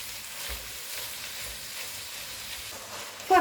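Minced meat sizzling in a soup pot with softened vegetables while it is mashed and stirred, a quiet steady hiss with faint low scraping thumps, ending in a short knock.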